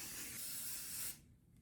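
A continuous aerosol heat protectant hair spray hisses close by for about a second, then cuts off into quiet room tone.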